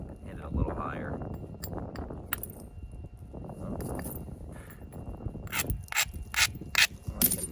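Percussion knapping of an agatized coral spearpoint: someone talks steadily while sharp clicking strikes and brief gritty scrapes of stone sound close by, clustering into several crisp hits near the end.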